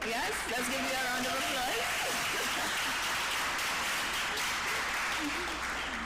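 Children applaud together at a primary school games launch held in Port of Spain, a steady, dense clapping wash that fills the whole stretch, with a voice speaking over it.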